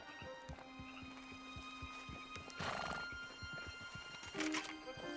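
Horses trot in Red Dead Redemption 2, a steady clip-clop of hooves close by, with a whinny and some jingling tack partway through, under faint ambient sound.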